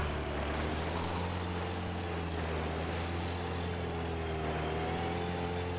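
Steady boat motor drone in the video game Dead Island Riptide, a continuous engine hum with a slight pitch rise near the end and no talk.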